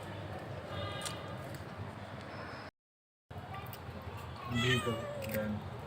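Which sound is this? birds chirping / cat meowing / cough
cat meowing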